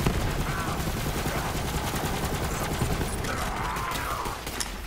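Rapid bursts of gunfire crackle in Borderlands 3, dense and fairly loud with volleys of shots across the whole stretch, a voice occasionally heard beneath.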